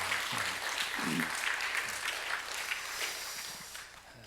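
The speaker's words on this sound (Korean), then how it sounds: "우리 박수 한번 하겠습니다" A church congregation at an early-morning service claps together, a steady broadband patter of hands held fairly level for a few seconds before thinning out toward the end, with faint low murmurs beneath.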